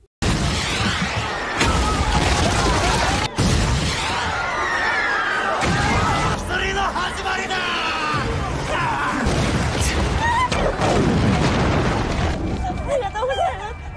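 Gunfire and explosions ring out in an anime scene of a city under attack, loud booms and bangs crashing over chaotic background commotion, with a narrator speaking over them throughout.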